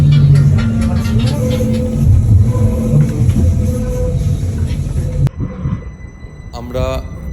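Bernina Express train running through the Alps between Tirano and St. Moritz, heard from inside near the driver's cab as a steady loud rumble and rattle of wheels on track, which cuts off abruptly to quieter cab sounds near the end.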